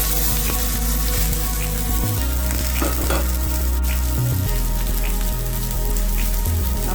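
Potatoes pan-fry in a pan with steady loud sizzling and crackling, and a few dull knocks come through; the sizzle runs without a break and no one speaks.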